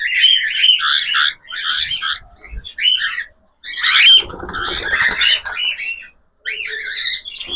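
Pet cockatiels give loud, close, shrill chirps and squawks in repeated bursts with short pauses between them. A few bursts come in a harsher, raspier flurry.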